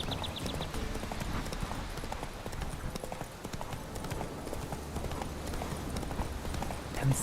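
Horse hooves clip-clop steadily as a rider moves through a wooded area in the video game The Witcher 3, a rhythmic, moderately close trotting beat that continues throughout with game ambience underneath.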